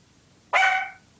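A dog woken from sleep indoors gives one short, sharp bark, loud and close, in an otherwise quiet room.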